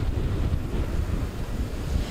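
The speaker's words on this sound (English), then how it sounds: "What we notice right now, it is very windy" Strong wind roars steadily outside a high-rise during a storm, a loud continuous rumbling buffet with no voices.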